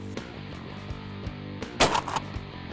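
A sharp shotgun blast at a duck hunt in Arkansas rings out mid-clip over a steady background hum, one loud report with a brief tail and a few faint clicks around it.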